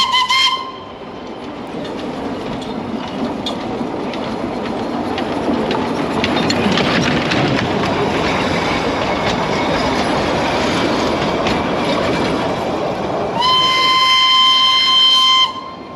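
The Darjeeling toy train clatters past nearby with steady rumbling and rail clicks, then a shrill whistle sounds near the end.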